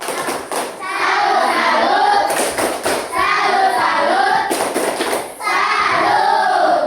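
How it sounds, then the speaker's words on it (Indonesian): A group performs a rhythmic clapping salute, bursts of claps set within loud group chanting that rises and falls in repeated phrases. "kami tepuk salut buat kelompok 1"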